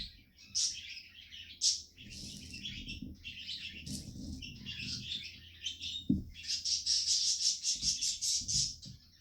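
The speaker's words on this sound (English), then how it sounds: "Birds are going crazy." Birds chirp and sing busily nearby in repeated bursts of high tweets and trills, with a rapid run of chirps toward the end over faint low rumbling.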